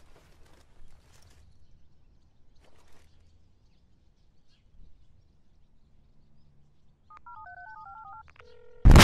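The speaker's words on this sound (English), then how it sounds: "We dial a bomb." A phone keypad dials a sequence of electronic tones to trigger an IED in the military shooter Squad, heard near the end after quiet ambience with faint rustling, cut off by a sudden loud onset.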